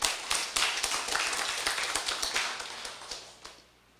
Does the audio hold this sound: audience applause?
yes